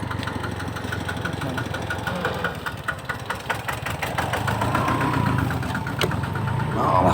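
A vehicle engine runs steadily on the drive to a rice field, a droning mid-pitched rumble with faint rhythmic ticking and vibration, slightly louder toward the end.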